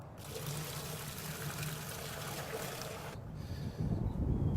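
Plain water pours steadily into a crawfish boiling pot holding a six-pack of beer, splashing and trickling continuously before a brief lull and a heavier gush near the end.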